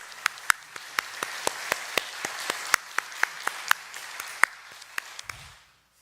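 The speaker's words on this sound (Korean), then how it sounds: "힘찬 격려와 축복의 박수" A church congregation applauds the choir at a worship service with sparse, sharp claps in a steady, even rhythm, a few crisp hands standing out, before the clapping stops abruptly near the end.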